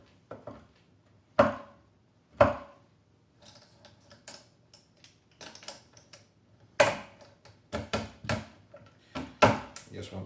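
A kitchen knife chops milk and dark chocolate into smaller chunks on a wobbly bench for a Creme Egg brownie, giving sharp isolated knocks and then a quicker run of close cuts with quiet gaps between.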